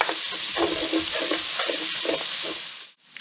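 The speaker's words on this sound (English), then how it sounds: "We're just going to saute these for a few minutes." Shallot and garlic sauté in a hot pan with a steady, loud sizzle and repeated stirring scrapes throughout, before it drops abruptly to near silence at the end.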